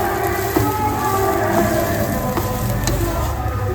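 Close, steady scraping and stirring of potato mash in a pan over low heat, with a soft sizzle underneath and occasional light knocks of the utensil.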